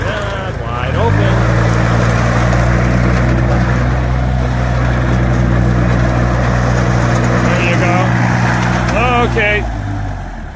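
The engine of a 2012 Chikusui Canycom S160 carrier runs at wide open throttle, a loud steady drone that rises and holds, with people talking over it briefly.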